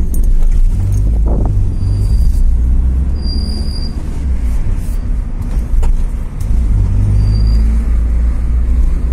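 Tuned Toyota sports car rated at 200 horsepower driving through city streets, a steady loud low engine drone with road rumble throughout and no talking.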